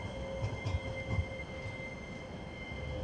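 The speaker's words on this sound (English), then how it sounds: "Right on cue, a modern tram." A modern tram rolls past on a street in Tallinn, a steady rumble of wheels on rail with low, uneven thumps, close by and continuous, with no talk over it.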